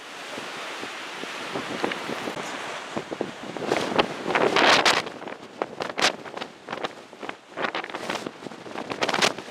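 Strong wind gusts roar across an open coastal spot at Paklenica, buffeting the microphone in loud, uneven surges with waves rushing underneath and no talking.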